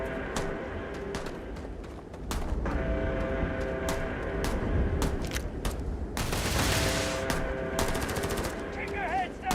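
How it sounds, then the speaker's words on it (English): Heavy automatic gunfire in Starfield: rapid machine-gun bursts and scattered single shots crack close by over a busy combat background, with a louder sustained burst near the end. "Heavy fire over here!"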